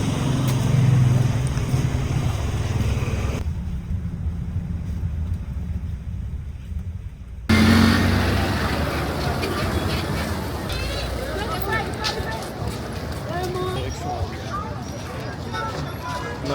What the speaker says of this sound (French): Le van il est arrivé, on va direction l'aéroport